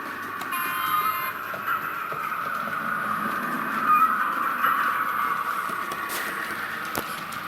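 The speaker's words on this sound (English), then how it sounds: "Walk away and leave the train running." A train runs steadily with a continuous rumbling, grinding roar and a sustained tonal whine, with occasional clanks and sharp knocks as the cars move along the track.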